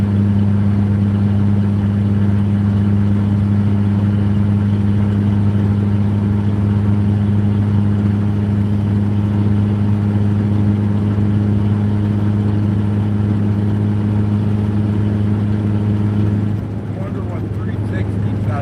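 A car engine drones at a steady cruise of about 60, loud and close with a constant low hum and road noise throughout, easing slightly near the end.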